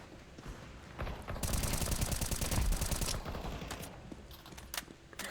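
Rapid automatic gunfire in the video game CS:GO rattles in a dense burst for a couple of seconds, followed by scattered clicks and sharper single shots.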